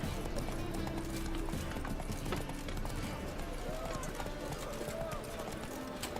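Horse hooves galloping in The Witcher III: Wild Hunt on Xbox One, a steady clip-clop rhythm running throughout amid game sounds, with a person talking over it.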